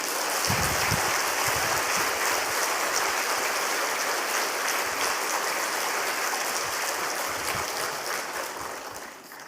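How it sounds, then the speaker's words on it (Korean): Church congregation at an autumn revival service gives warm applause, a steady, moderately loud wash of many hands clapping that holds throughout and fades slightly at the end. "나오실 때 뜨거운 박수로 맞이하겠습니다"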